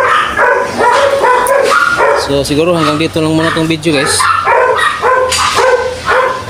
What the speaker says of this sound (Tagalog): May mga aso dito.